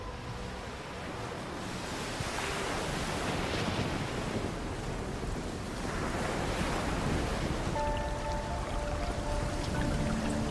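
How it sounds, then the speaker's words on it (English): Stormy ocean surf churns and crashes steadily throughout, with broad roaring wave wash and gusty wind noise at a constant loud level, plus faint tonal hums entering near the end. "Huge icebergs carve into a stormy and fast-rising ocean."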